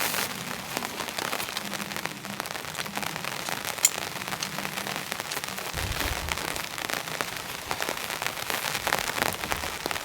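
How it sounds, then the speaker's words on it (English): Heavy rain drums steadily on a camping tent, a dense continuous patter with occasional sharper drops and a low rumble partway through, close and unbroken throughout. "there's definitely more rain coming in"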